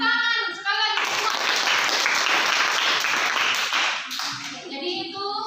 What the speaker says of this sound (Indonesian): Tepuk tangan sekali lagi semua.